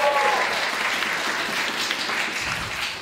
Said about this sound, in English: A little clap, please.